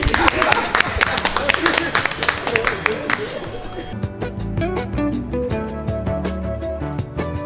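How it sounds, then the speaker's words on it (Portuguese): An audience applauds for Laurat, a burst of dense clapping and crowd noise that fades after about three seconds into music with a voice speaking over it. "Aplauso para Laurat também"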